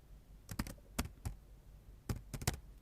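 Ctrl and Shift keys pressed on a computer keyboard while working in Excel, soft close clicks in two quick bursts of several taps each, with a quiet pause between.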